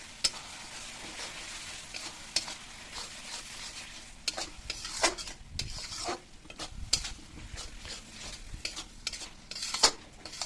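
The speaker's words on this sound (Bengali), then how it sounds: "লঙ্কা হলুদ দিয়ে দিয়েছি এবার আমি নাড়বো মশলাটাকে" Spice paste with chilli powder and turmeric is stirred in an oily pan before meat goes in, giving a close, steady sizzle broken by repeated scraping and clacking of a spoon against the metal.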